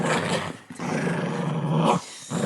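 Pet dogs growling and grumbling in a home, a close, loud, rough sustained growl broken by a short pause, then another drawn-out growl and a brief third burst, with no talking.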